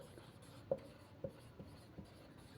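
Chalk or a marker writes on a board during a chemistry lecture on ionic equilibria, a faint sequence of soft taps and short strokes at irregular intervals over a quiet room.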